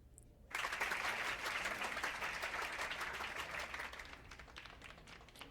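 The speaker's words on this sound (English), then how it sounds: "A round of applause, everyone!" A crowd in a visual novel game bursts into sustained applause after a brief quiet moment, a dense wash of clapping that slowly fades a little toward the end.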